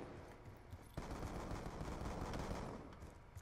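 Video game gunfire: rapid bursts of automatic shots crackling in quick succession, fairly dense and continuous, with no talk over them.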